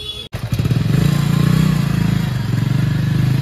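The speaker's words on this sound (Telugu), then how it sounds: "మనమైతే బైక్స్ మీద పోతున్నాం ప్రజెంట్ అయితే." Motorcycles rumble close by with a steady, throaty engine drone while riding along a road in a Ganesh immersion procession heading to Tank Bund in Hyderabad, after a brief knock at the start.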